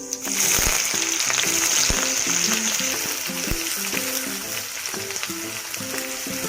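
Mustard seeds and cumin hit hot oil for Indori-style steamed poha, giving a loud, continuous sizzle dotted with sharp pops and crackles, close up.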